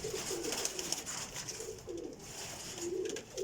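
Soft, steady cooing of a Teddy pigeon, a young flying pigeon, close by, with repeated low murmuring coos running through the whole stretch and light background hiss.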